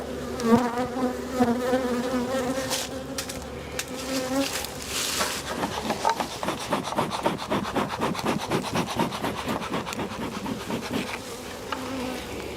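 A dense, steady buzz of many honeybees swarming close by their hive during a post-winter-storm inspection, rising and falling slightly, with some soft rubbing noises mixed in.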